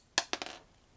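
A small toy Nerf Longshot blaster firing foam darts: a sharp snap followed by two quicker clicks, close and brief, then quiet, with no talking.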